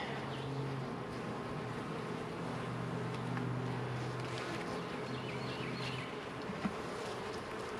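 Honeybees drone around an opened hive during an inspection, a dense steady buzz close by that continues throughout at moderate, even level.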